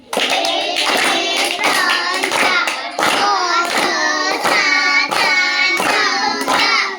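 Children in a Gujarati primary classroom clap together in unison, a run of sharp rhythmic group claps at an even pace, loud and close, with the kids' voices faintly mixed in.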